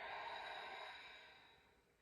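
One long, soft exhaling breath during a yoga stretch, a close, airy sigh that slowly fades out, with nothing else heard.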